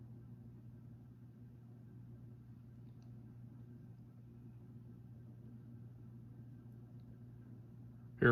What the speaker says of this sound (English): Fan has a slight hum to it. The bearings make a slight sound to them from general wear and tear